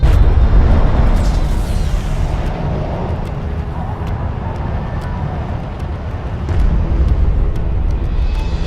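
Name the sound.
explosion destroying a sensor post, video game Homeworld: Deserts of Kharak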